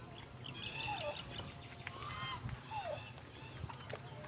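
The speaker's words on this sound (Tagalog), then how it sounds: "May mga manok." Chickens on a farm with short clucks and rising calls scattered over a busy outdoor background, fairly faint and intermittent.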